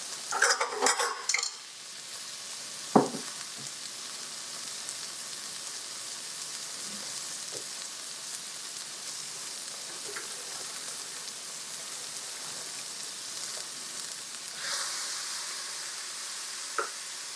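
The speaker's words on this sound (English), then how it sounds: "I'm going to add my walking onions into it. Saute them off a little bit." Walking onions sauté in a warm skillet, giving a quiet, steady sizzle with a few clinks of a utensil against the pan near the start.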